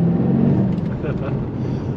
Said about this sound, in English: And that V8 just sounds heavenly.